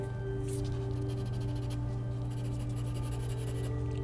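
A woodless charcoal pencil drags across paper in a steady, continuous scratching with no pauses, close and fairly quiet over a constant low electrical hum.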